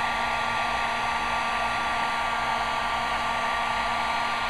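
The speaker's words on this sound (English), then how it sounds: "Turn the heat gun back on real quick and melt your wax if it starts to solidify on you" Heat gun blowing steadily to melt wax in a pan, a loud constant fan roar with an even whine and no pauses, close to the listener and with no talk.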